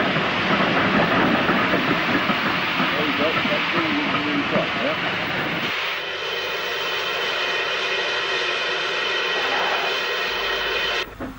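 A 1960s steam locomotive, 4079 Pendennis, pulls away from Worcester with a loud, rumbling, chuffing mechanical roar that shifts to a smoother, steadier drone partway through before cutting off.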